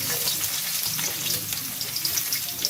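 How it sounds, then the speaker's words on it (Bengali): Chopped onion fries in hot oil over a clay stove, a dense continuous crackling sizzle, close and fairly loud, with occasional light stirring sounds. "তেল দিলাম, তেল একটু গরম করলাম, পেঁয়াজের কুচি দিলাম"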